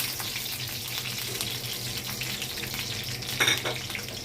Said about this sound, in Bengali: শুকনো মরিচ আর গোটা জিরা একসাথে একটু ভালো করে ভেজে নেব